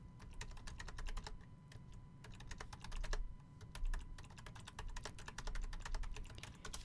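Fast, uneven typing on a computer keyboard, a dense run of crisp key clicks with brief pauses, close and fairly quiet, with no talking.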